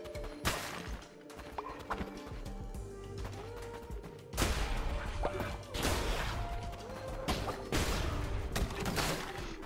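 Explosions in Cult of the Lamb hit as a few sharp, broadband blasts, one early and a stronger cluster in the second half, set against fairly quiet game effects and clattering.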